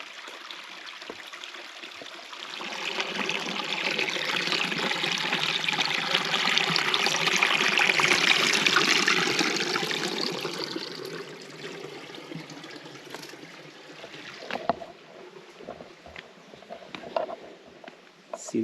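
Creek water trickling and burbling over rocks in Tonto National Forest, a steady outdoor rush that swells louder toward the middle then eases off, with a few faint clicks and knocks near the end.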